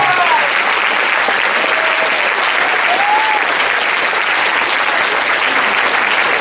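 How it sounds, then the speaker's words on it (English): A high school gym audience at a Veterans Day program gives a loud, sustained round of applause for the veterans, a dense wash of clapping with a few cheers rising over it and no pause throughout. "Another big round of applause for all of these veterans who are here today"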